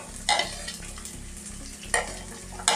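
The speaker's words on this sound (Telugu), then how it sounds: "క్యారెట్ ముక్కలు వేసుకొని వేయించుకోవాలి. హై ఫ్లేమ్ పెట్టుకోవాలి." Vegetables (carrot pieces, cabbage, beans, capsicum and peas) stir-fried over a high flame for veg noodles, with a steady sizzle broken by a few sharp scraping stirs of the spatula against the pan.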